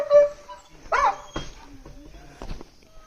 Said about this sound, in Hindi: ये हमारा मार्शल भौंक रहा है